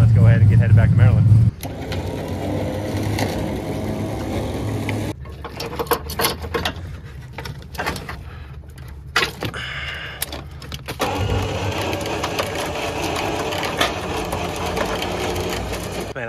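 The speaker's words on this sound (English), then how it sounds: "let's get this thing winched up onto the trailer here" An electric winch whines steadily as it drags an abandoned Chevrolet Camaro ZL1 onto a trailer at a tow yard, with a loud burst at the start and then a continuous mechanical drone that wavers and rises again.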